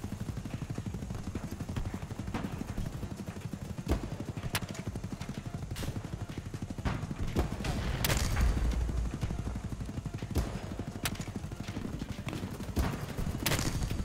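Rapid bursts of Grozo rifle fire in the shooter game BattleBit Remastered, sharp repeated shots crackling over a steady battlefield din, with a louder cluster of fire midway.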